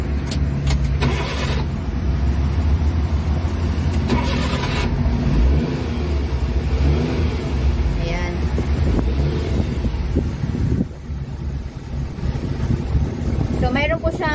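Suzuki Carry multicab 4x4 engine cranking, catching and revving, a loud rough idle with rising and falling revs and wind buffeting the microphone, a voice briefly audible.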